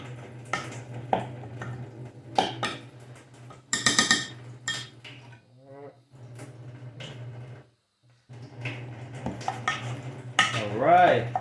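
A spoon stirs and clinks against a container while mixing a baking soda paste, producing intermittent scraping and tapping, with a person talking in between.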